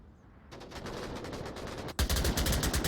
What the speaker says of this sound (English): Pretty quick gunshots there